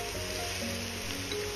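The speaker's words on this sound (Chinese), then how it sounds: "平底锅烧油，油热后下入卷好的金针菇" Rolled enoki mushrooms hit hot oil in a flat frying pan, producing a loud, dense, continuous sizzle and crackle with no talking.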